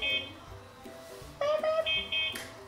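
A toy robot's app plays a short electronic trumpet effect, a few bright tonal blasts heard close over faint background talk.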